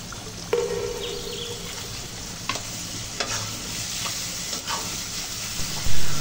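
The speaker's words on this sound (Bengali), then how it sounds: "দিয়ে দিব চিংড়ি মাছগুলো" Shrimp going into spiced masala in a pan for a red amaranth greens dish, with a low continuous sizzle, a few scraping stirs and a louder clatter at the end.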